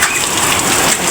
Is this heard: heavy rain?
yes